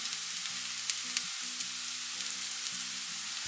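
Sliced onion and spring onion, salted, stir-fried in a pan for an egg thoran, giving a steady close sizzle with scraping stirs, while a soft tonal hum runs underneath.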